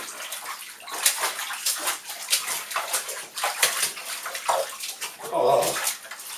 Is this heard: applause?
no